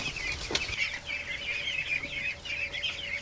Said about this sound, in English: I've never had this many ducks in this barn.